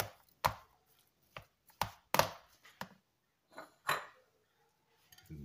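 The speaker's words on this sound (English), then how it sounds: "I mean onion, chopped onion." A knife chops onion for egg rolls on a cutting board in a home kitchen, with about eight irregular, close, knocking chops and quiet gaps between them.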